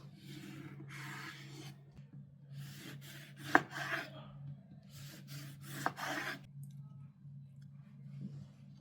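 A knife cuts decorative strips into orange peel for a Greek orange cake, producing soft scraping, slicing strokes in irregular bursts over a steady low hum, with a few sharper clicks.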